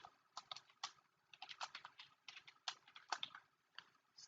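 Computer keyboard typing C code, a quick irregular run of light close keystrokes with brief pauses and no voices.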